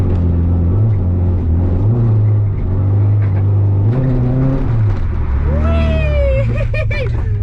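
A Nissan 240SX drifting on a wet road slick with pine needles, its engine droning loud and close, surging in repeated rev bursts from clutch kicks, with a sharp rising squeal near the end.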